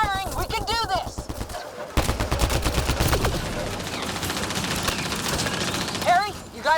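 Sci-fi gunfire from Mass Effect Andromeda: rapid, loud bursts of shots in a sustained barrage, mixed with warbling energy tones and shouted voices in the thick of combat.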